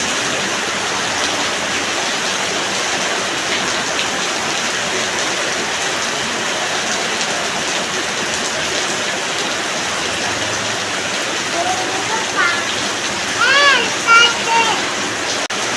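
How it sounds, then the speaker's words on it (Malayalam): Heavy rain keeps falling on a gloomy, dark morning, a constant broadband wash of water with brief chirpy sounds and a voice near the end. "കണ്ടില്ലേ, ഇവിടെയൊക്കെ നല്ല മഴയാണ് ഇന്ന്"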